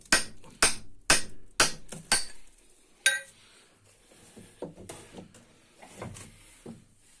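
Hammer blows drive a chisel into the rock of an ancient rock tomb: six sharp, evenly spaced metallic strikes, one more after a short pause, then softer scattered knocks and scrapes.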